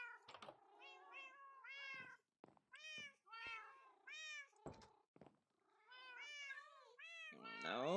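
A Minecraft cat (Java Edition 1.14.2) meows repeatedly in a string of short, close, clear calls separated by brief gaps, with a few soft knocks between them and a louder burst at the end.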